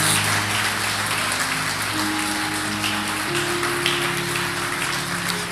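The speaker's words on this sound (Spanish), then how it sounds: "dele el aplauso a Dios, no se lo guarde por favor" A church congregation applauds God during a Sunday service: a dense, steady wash of clapping runs throughout, with sustained music tones underneath and no pauses.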